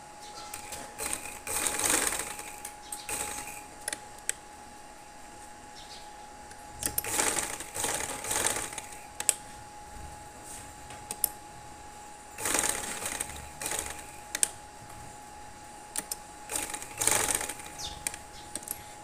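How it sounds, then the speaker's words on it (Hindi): Trouser fabric being stitched on a sewing machine, the motor running in several short bursts of rapid whirring and clatter separated by quiet pauses, fairly faint and close. "सिलाई इसको लगाऊँगी मैं"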